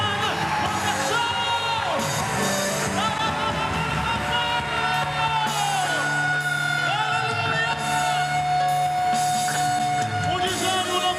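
A church congregation at an MDA conference in Fortaleza claps and cheers in a steady, continuous roar of whoops and shouts, with music and voices blending throughout.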